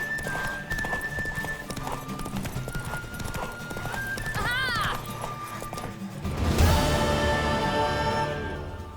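Rapid hoofbeats of a galloping horse in The Witcher 3: Wild Hunt pound steadily during a horse race, with a horse whinnying midway and a loud crash near the end, game-like and close.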